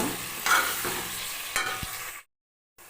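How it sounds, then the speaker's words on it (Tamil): Tomatoes for quail biryani sauté in a pan with a close, steady sizzle and scraping stirs, then the sound cuts to silence shortly before the end. "தக்காளி நல்லா வதங்கட்டும்"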